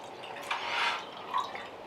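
Red Spanish wine is poured into a glass, producing a soft, close trickle with a couple of brief splashy gurgles. The pour is quiet and lasts under two seconds.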